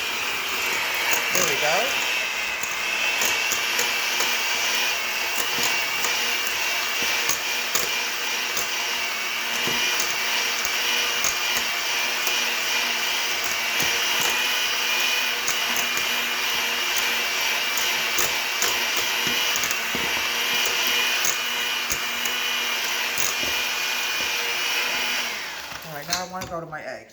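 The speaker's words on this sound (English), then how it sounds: "I'm going to cream the butter and the sugars together" An electric mixer creams butter and sugars for cinnamon cookies, running as a loud, steady mechanical whir with a rattling grind for nearly half a minute before winding down. A voice speaks briefly near the end.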